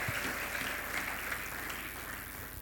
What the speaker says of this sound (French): Applaudissons pour Maman Jacques.